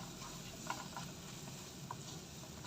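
Cabbage and carrot thoran is stirred in a pan, giving a soft, continuous scraping and light sizzle with a few faint clinks of the spoon.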